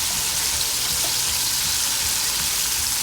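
Chicken pieces deep-frying in hot oil for crispy chicken, a loud, dense, continuous sizzle and crackle that fills the clip without any talking.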